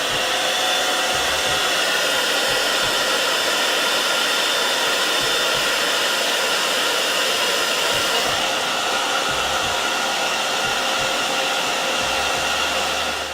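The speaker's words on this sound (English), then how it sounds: "now we're gonna just blow dry it one more time" A hair dryer blows steadily on a lace frontal wig, a loud, continuous close-up whoosh that holds for the whole stretch with only slight shifts in tone as the airflow moves.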